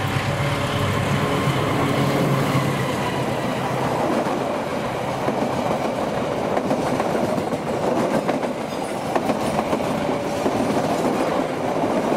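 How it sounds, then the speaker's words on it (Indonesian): A locomotive-hauled passenger train rumbles past on the rails, loud and close, with a steady clattering of wheels over track joints throughout. "Barusan kereta api Sembrani 61 yang hari ini ditarik lokomotif"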